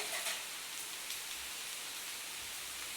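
Rain falling steadily on a rainy day, a constant close hiss of drops on surfaces with faint scattered patters, alone without talk.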